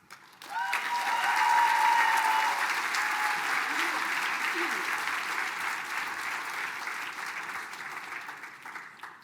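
An audience at a tribal State of the Band gathering breaks into applause, swelling quickly to a full, sustained clapping that slowly tapers, with a brief tone and faint voices underneath.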